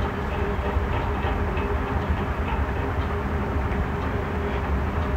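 A train with its engine and two coaches rolls into a railway station near Madanapalle, a steady, loud rumble with faint rhythmic clatter running throughout.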